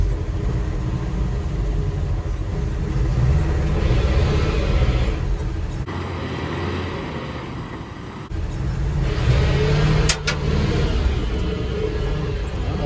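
A Chevy R30 truck pulls away in low gear, a loud, close, rough engine rumble and drivetrain drone that dips briefly, then surges again.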